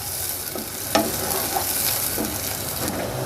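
Chopped onions fry gently in a pan while being softened for keema, a steady sizzle with occasional stirring scrapes and soft pops, close and even throughout.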